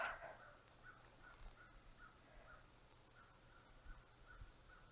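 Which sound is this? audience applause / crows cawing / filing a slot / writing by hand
crows cawing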